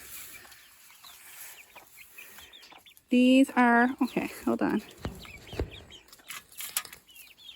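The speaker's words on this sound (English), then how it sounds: "here's some grown-up mama chickens, or some hens." A hen clucks and squawks loudly for a couple of seconds amid quiet farmyard rustling in a Nova Scotia garden, with a person speaking briefly nearby.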